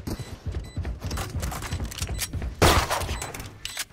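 Gunfire in the tactical shooter Valorant, with a rapid burst of shots and sharp impacts, loudest in one dense volley partway through, close and alone without talk.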